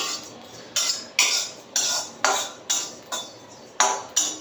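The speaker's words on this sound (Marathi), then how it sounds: "आता मी शहाजिरे भाजतीये" Caraway seeds dry-roasting in a kadhai with no added oil are stirred in a steady rhythm: about nine short scraping, rattling strokes, each sharp at the start and then fading, close and fairly quiet.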